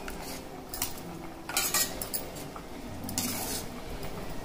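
A ladle is pressed and stirred through cooked dal in a metal pot, mashing it for a simple Tamil home lunch, giving soft scraping, clinking and squelching sounds in irregular bursts close by with no talk.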